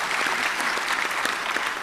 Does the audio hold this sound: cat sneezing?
no